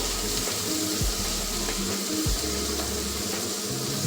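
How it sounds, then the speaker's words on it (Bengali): Three large sliced onions fry in oil for a bottle gourd and prawn dish, giving a constant, even sizzle broken by a few low knocks from a utensil against the pan. "তিনটে বড় সাইজের পেঁয়াজ স্লাইস করে কেটে নিচ্ছি অ্যাড করে দিলাম পেঁয়াজটা আমি ভালো করে ভেজে নেবো"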